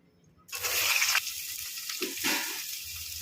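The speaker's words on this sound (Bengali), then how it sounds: "এবার আমি বেগুনগুলো ভেজে নিচ্ছি।" Brinjal pieces frying in hot oil, a sudden loud hiss bursting in after a moment of quiet, then settling into a steady crackling sizzle with a few softer bubbling pops, close up.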